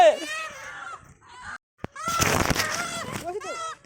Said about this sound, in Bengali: এখন মুরগিগুলোকে এক জায়গায় জড়ো করতেছি